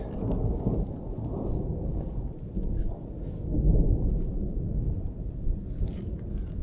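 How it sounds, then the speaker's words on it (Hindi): Loud thunder rolls through a heavy rainstorm on a mountain trek over a high pass, deep rumbling swells over dense, steady rainfall with some wind buffeting, close and continuous throughout. "बादल बहुत ज़ोर से गरज रहे हैं।"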